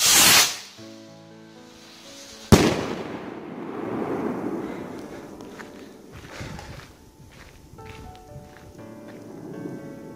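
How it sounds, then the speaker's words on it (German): A large New Year's Eve firework rocket launches with a loud, close hissing rush, followed a couple of seconds later by a sharp bang and a long, fading crackle and hiss outdoors. "Eine der stärksten Raketen in unserem Repertoire heute."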